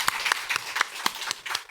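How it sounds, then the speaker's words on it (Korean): A church congregation gives the choir scattered, uneven handclaps after an Easter cantata performance, with a handful of distinct claps spread across the moment at moderate loudness. "격려의 박수 한번 했으면 좋겠습니다."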